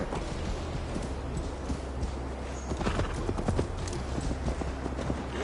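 Horse hooves clip-clop at a steady gallop as Eivor rides in Assassin's Creed Valhalla, close and continuous over a few seconds, with a brief whinny partway through.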